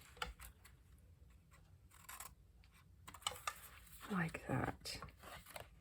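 Scissors trim the edge off a one-inch paper strip bound with black binding, a few short crisp snips close by, briefly under quiet talk.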